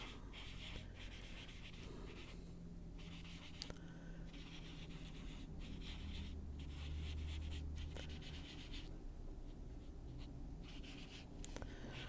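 A pen inks a drawing on paper, giving a soft, steady scratching and rubbing that continues quietly and close for several seconds with small pauses between strokes and no speech.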